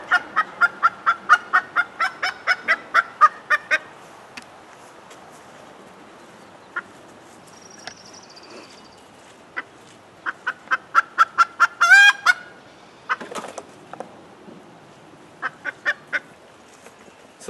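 Newly acquired chickens in a backyard flock, making rapid repeated clucks and squawks in bursts, plus a few sharper cries and wing flaps, fairly close with quiet gaps between.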